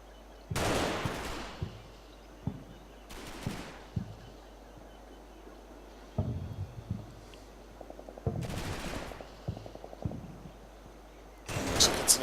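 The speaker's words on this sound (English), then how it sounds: "Looks like it's an MG42 at the back there from one of the squads" Bursts of MG42 machine-gun fire in the Combat Mission WWII game, Operation Bluecoat in Normandy fields: several loud broadband volleys spaced a few seconds apart, with a rapid rattling burst and fainter distant shots between them.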